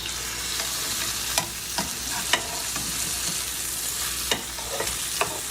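Steaks sear in a hot pan with a loud, dense, continuous sizzle and crackle, broken by a few sharp pops and spatters, with no one speaking.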